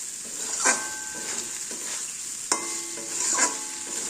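Potatoes with sugar and salt are stirred in a pan, giving a steady sizzle with a few scraping stir strokes, close and alone.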